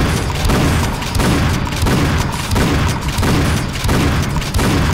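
Gunfire in the video game Painkiller Black, loud booming shots landing in a steady repeating rhythm about every half second, with no talk.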